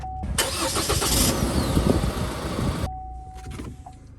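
A 2021 Chevy Colorado diesel pickup engine cranks and catches, roaring loudly for a few seconds before settling, with a faint steady electronic tone before and after.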